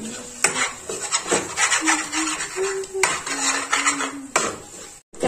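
Metal spoon scraping and clanking against a kadhai as potato halwa is stirred and fried in ghee, repeated close strokes with a rhythmic grinding sound, no talk.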